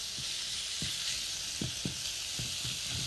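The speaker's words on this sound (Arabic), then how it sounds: "هنا الزيت خلاص سخن، هبتدي احط كده اللحمه" Small pieces of diced meat sizzle in hot oil, giving a steady, bright frying hiss with soft, occasional crackles and stirring thumps. No one speaks.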